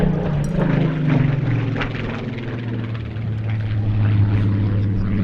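A Rolls-Royce-engined Spitfire PR.19 flies past at an airshow, a steady, loud piston-engine drone with a deep pulsing hum that holds throughout without a break.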